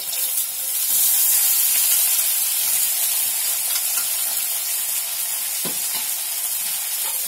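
Tofu going into a hot pan of frying bean sprout stir-fry, a steady close sizzle throughout with a few clicks and scrapes of stirring.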